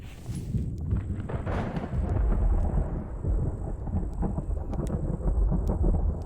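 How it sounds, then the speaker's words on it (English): Thunderstorm in the survival game The Infected: heavy rolling thunder and a dense wash of rain fill the whole stretch, with a loud crack near the start and sustained low rumble throughout, no one speaking. "That storm, man."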